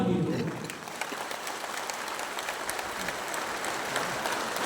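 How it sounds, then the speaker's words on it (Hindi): Applause from a crowd at a political rally, sustained clapping throughout with a slight swell at the start, loud and fairly near. "तो जोर से ताली दो।"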